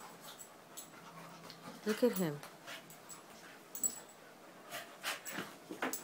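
A dog pants and whimpers nearby, with a brief rising whine and scattered snorts and breaths, while a person speaks over it.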